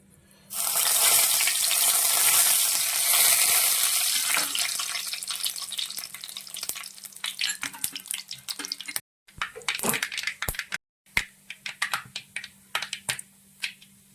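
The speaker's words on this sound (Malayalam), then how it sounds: "ഇനി നമുക്ക് കടുക് താളിക്കാം" Mustard seeds splutter and crackle in hot oil while tempering for a Kerala mushroom masala, a dense hissing sizzle that starts loud, then thins into scattered pops and crackles with brief pauses.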